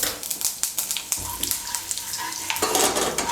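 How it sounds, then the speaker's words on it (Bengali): A bay leaf and whole cumin seeds sizzling in hot oil for a fish curry, with a bright, crackling spatter throughout, sharp pops, and a surge of hissing toward the end. "এর মধ্যে আমি দিয়ে দিচ্ছি একটা তেজপাতা, দিয়ে দিচ্ছি গোটা জিরে।"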